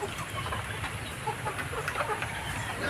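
Young pullets cluck on a range farm, a busy, continuous chatter of several hens close by with scattered sharper calls over a steady background.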